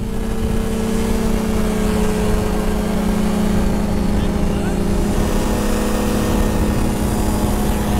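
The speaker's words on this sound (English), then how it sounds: "Because this is such a big, torquey, large propeller, large engine, you could definitely feel the torque." Loud, steady drone of a large paramotor engine spinning a big propeller in flight, with strong harmonic tones holding level throughout over rushing wind, a tandem wing carrying it as it climbs.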